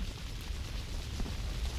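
A game explosion in GTA III Definitive Edition as a factory blows up: a loud, sustained rumbling roar with crackling debris, steady for about two seconds and no voices.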